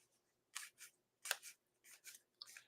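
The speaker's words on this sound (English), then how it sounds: "and then we'll shuffle it for Piyu." A deck of cards is shuffled close up in a quiet room: five or six short, soft, papery bursts come in an uneven rhythm.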